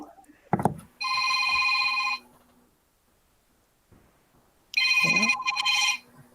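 A phone ringtone sounds in two bright, buzzy bursts about a second long, separated by a pause, with a brief thump before the first.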